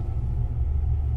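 Deep rolling thunder rumble in the horror game Mortal Decay, brief and fairly loud, with no voices.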